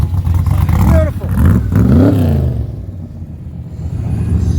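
An old car with its engine tuned rich revs up and rumbles nearby on a street in Old Kensington, with rising and falling engine pitch over a low idle, while people talk around it.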